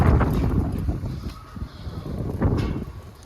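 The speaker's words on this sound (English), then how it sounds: "It's a very windy day" Gusty wind outdoors in a Lowe's garden section buffets the microphone in uneven low rushes, swelling and easing over a few seconds, with no clear voices.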